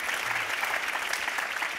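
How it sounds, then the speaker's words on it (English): Brief burst of steady audience applause at a biomedical research conference, a dense even clapping from a crowd in a hall, lasting under two seconds. "I think, it is worth an applause."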